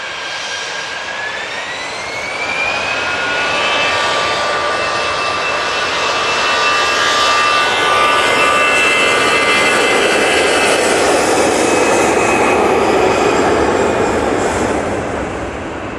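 A Global Airlines Airbus A380 taxis at Manchester Airport toward its stand, its jet engines producing a loud, continuous roar with a whine that rises in pitch, close by and steady throughout, with no voices.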